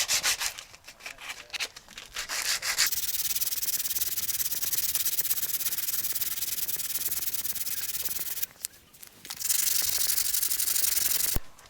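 Sanding rust off the rear wheel arch of a Volvo 480, a loud close continuous abrasive rasp that stops briefly twice and then resumes, with no talking.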